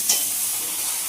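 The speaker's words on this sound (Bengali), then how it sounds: "সবজিগুলো ভাজা হচ্ছে?" Potato, plantain, bitter gourd and eggplant fry in a pan, giving a steady close hissing sizzle that fills the short moment without voices.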